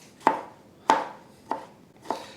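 A knife roughly chops broccoli florets on a cutting board, four distinct evenly spaced thuds, close and clear with no talking.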